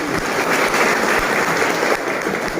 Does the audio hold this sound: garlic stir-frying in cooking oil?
no